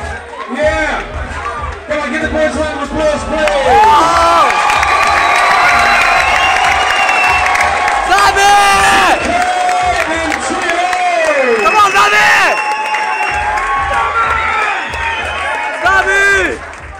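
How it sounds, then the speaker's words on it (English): After a fight, a crowd cheers and applauds loudly and steadily, with shouting and chatter mixed through the noise. "Give the boys a round of applause, please."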